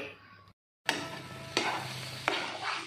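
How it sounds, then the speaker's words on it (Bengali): Amla coated with ginger paste is stirred in a dry pan with no oil or ghee, giving a soft sizzle broken by a brief pause and a few sharp scraping strokes of the spoon. "জাস্ট এইটা এর উপরে দিয়ে একটু 2-3 মিনিট নাড়তে হবে"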